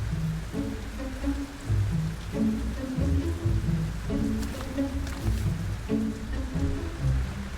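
Heavy rain pours down at a development site in a city centre, a dense continuous hiss of drops on surfaces, with low croaking frog calls repeating through the downpour.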